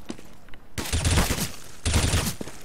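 Gunfire in a first-person shooter game, heard as two loud rapid bursts of automatic fire close by, separated by a short pause.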